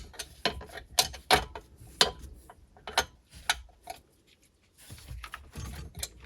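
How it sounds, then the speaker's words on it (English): A 15mm wrench works a manifold bolt on a Sea-Doo GTX 951DI jet ski engine, giving quiet, irregular metallic clicks and ratcheting taps close by, with a brief lull midway. "I'm going to use my 15mm wrench, come to the underside of this actual manifold where that 15mm bolt is"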